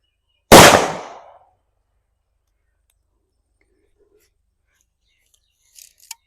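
A single sharp Valangaiman country firecracker blast bursts out loud and decays quickly, followed by a long quiet stretch and a couple of faint crackles near the end.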